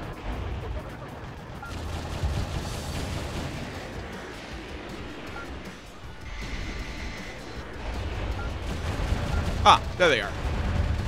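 Enemy gunfire in the video game Metal Wolf Chaos XD rattles continuously beneath a rumbling bed of explosions and crashes, growing louder toward the end with sharp bursts, while someone speaks briefly.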